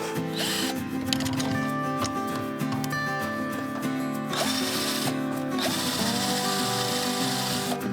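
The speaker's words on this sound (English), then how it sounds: "I use the drill to put 2 countersunk." A power drill driving countersunk screws into a wooden chicken coop panel, a continuous loud whirring motor with pitch shifts as the screw bites and seats, close up.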